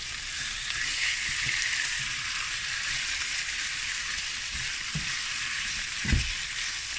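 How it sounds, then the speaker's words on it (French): Chicken with black mushrooms and bamboo shoots fries in a pan, a steady close sizzle with a few soft scrapes as the mixture is stirred, plus a brief louder stir-thump near the end. "donc là on va remuer"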